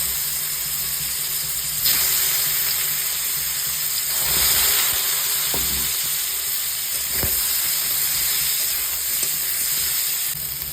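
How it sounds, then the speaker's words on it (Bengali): Jackfruit pieces sizzle lightly in hot oil in a kitchen pan, a steady crackling fry punctuated by a few soft stirring scrapes and clinks over about ten seconds. "আমি এঁচোড়টাকে ভেজে নেব হালকা করে"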